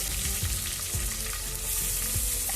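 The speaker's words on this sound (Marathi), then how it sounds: "आता आपण या सर्व गोष्टी नीट परतवून घेऊयात" Chopped onion and tomato with ginger-garlic paste frying in a pan over a wood-fired stove, a steady close sizzle with soft stirring scrapes every half second, no voices.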